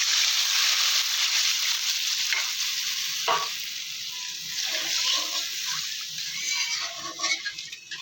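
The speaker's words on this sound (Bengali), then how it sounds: "মশলা ভাজা ভাজা হয়ে গেছে পরিমাণ মতো জল দিয়ে দেবো" Water poured into spices frying in a pan: a loud, close, continuous steaming hiss and sizzle that eases slightly partway through, with faint bubbling and stirring toward the end.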